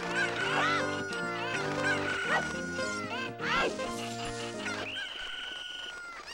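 Cucco chickens in The Legend of Zelda: Ocarina of Time, loud crowing and clucking calls repeating over game music, with a player's voice reacting in between.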